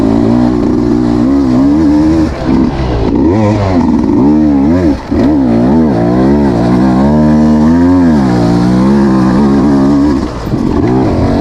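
A 2026 Beta 200 RR X-Pro two-stroke dirt bike engine roars loud and close while riding a rutty single track, rising and falling through revs with brief dips off the throttle.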